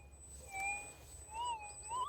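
Minelab F3 mine detector close to a target gives off a loud, steady electronic tone that wavers and swells in pitch in short bursts, alone over a low background hum.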